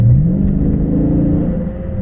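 A Dodge Charger with a 6.4L engine and a Pedal Commander throttle controller accelerates at half throttle, a loud, close, steady engine roar with a rising pitch at the start that holds strong and even for about two seconds.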